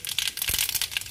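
Mustard seeds crackle and pop in hot oil as a dense, close series of quick sharp crackles with no pause in the brief burst.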